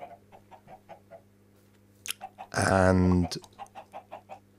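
Minecraft chickens cluck in a steady run of short, evenly spaced blips, with a louder, longer squawk-like burst in the middle; a voice briefly speaks over it.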